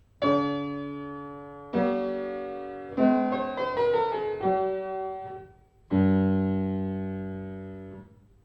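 A Haydn passage played plain, without ornaments: a few sustained, bright tones enter one after another, each ringing out and fading, with a brief rising run in the middle, played alone.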